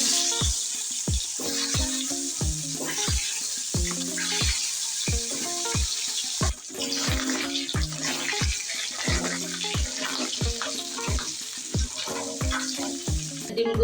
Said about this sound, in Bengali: এখন তেলের ভিতরে ভাজতে দিয়ে দেবো